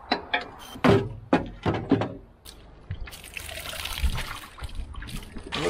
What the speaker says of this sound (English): That's spitting water out of the top there.